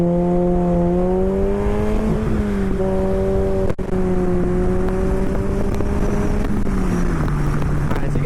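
DF Goblin kit car driving on a road, its engine a steady, loud drone that shifts pitch slightly as it accelerates and eases off, continuous throughout with no talking.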